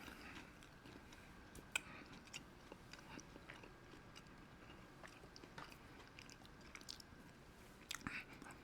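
Crunchy homemade spice cookies being bitten and chewed, faint close crunches and soft chewing ticks scattered over several seconds in a quiet room, no talking.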